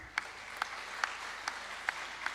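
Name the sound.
applause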